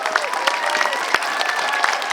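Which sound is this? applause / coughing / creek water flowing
applause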